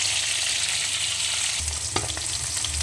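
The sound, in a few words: fish frying in oil with spices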